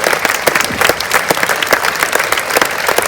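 A crowd at an outdoor memorial rally day applauds a volunteer committee, a loud, dense, sustained wash of many hands clapping close by.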